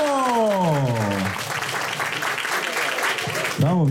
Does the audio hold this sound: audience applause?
yes